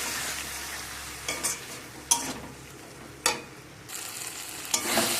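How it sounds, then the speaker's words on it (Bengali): Spices frying in oil in a pan, stirred with a utensil in several distinct scraping strokes over a steady sizzle, close and alone with no talk. "মশলা সব ভালো করে কষিয়ে নিয়েছি, মশলা থেকে তেল ছেড়ে দিয়েছে।"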